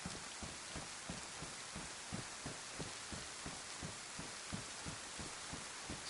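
Rain falls in the DayZ survival video game as a steady, faint hiss, with soft rhythmic thumping pulses repeating beneath it at a regular beat.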